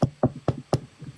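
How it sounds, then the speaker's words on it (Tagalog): Four firm knocks on a door in an even rhythm, close and distinct, followed by a couple of softer trailing taps. "Ate, may kumakatok ata."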